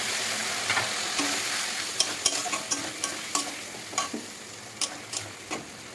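Spice paste and turmeric powder fry with already browned onions in a pan, a soft continuous sizzle punctuated by a series of sharp ticking stirs and clicks.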